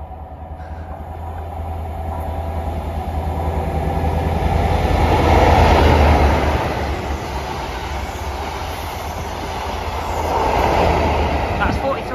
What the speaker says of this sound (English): Passing through now is a ScotRail service from Aberdeen to Edinburgh Waverley.